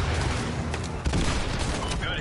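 Gunfire in Call of Duty Modern Warfare 2 during a Russian invasion of the USA level, dense overlapping bursts and sharp cracks with booming impacts, loud and close, with radio chatter mixed in.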